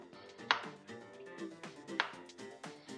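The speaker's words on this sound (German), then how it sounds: "Ich schneide das jetzt kleine Stücke." A kitchen knife chops garlic and ginger into small pieces for Japanese ramen: two sharp, quiet strikes on the board, about a second and a half apart, over a steady humming background.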